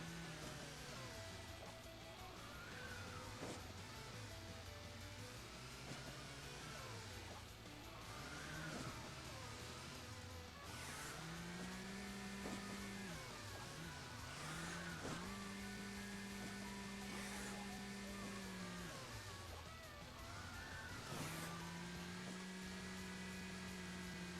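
A car engine in Hill Climb Racing 2 revs up and down repeatedly, its whining pitch rising and falling with throttle over a constant game soundtrack, fairly faint and without speech.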